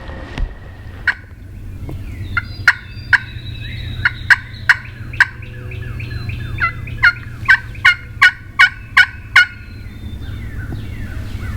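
Wild turkey gobbling repeatedly during a Kansas hunt, a series of loud, sharp gobbles in bursts over a steady low outdoor rumble, with no talking.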